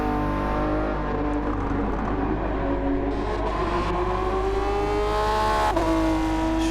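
A race car in Gran Turismo 7 drives the final lap at Suzuka, a loud close engine whine rising and falling through gear changes, with a sharp shift near the end and a steady low hum underneath.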